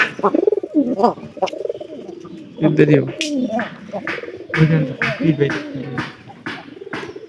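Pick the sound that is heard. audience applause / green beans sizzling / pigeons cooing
pigeons cooing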